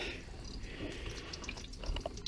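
Water runs steadily from the feeder of a rocket stove, a continuous trickling splash with a few drips, moderately close and alone without talk.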